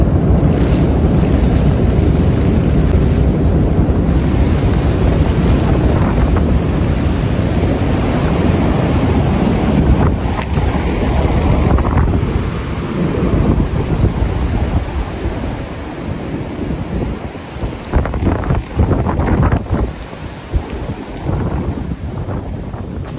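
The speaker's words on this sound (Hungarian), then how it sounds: "Tombol kint a szélvihar, esik az eső." A January windstorm with rain lashes a fishing tent on a lakeshore in Tribalj, a loud continuous roar of gusting wind and rattling fabric that eases somewhat toward the end, with no talk.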